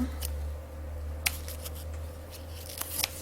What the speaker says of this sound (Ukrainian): Два квадратика я вирізаю.